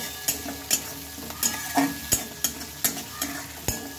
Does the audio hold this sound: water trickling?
no